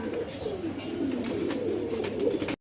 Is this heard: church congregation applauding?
no